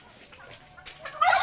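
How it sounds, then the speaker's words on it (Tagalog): Turkeys and ducks at a backyard morning feeding, with scattered gobbles and short clucking calls close by, busier and louder toward the end. "Mamahog og pato, pabo, og magtigway og kanding."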